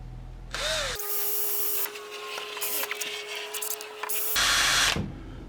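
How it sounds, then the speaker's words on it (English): A power drill boring a pilot hole in plastic whirs up, runs steadily for a few seconds with a high whine, then stops, with short bursts of hiss before and after. "I think I'll drill a pilot hole"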